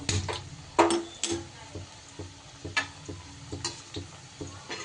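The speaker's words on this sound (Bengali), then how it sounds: "একই রকমভাবে এগুলোকেও আমি ভেজে নেবো" Potato and wheat-flour chop snacks fry in hot oil with a steady crackling sizzle, broken by a few sharp clinks and stirring scrapes of a utensil against the pan, close by and with no talking.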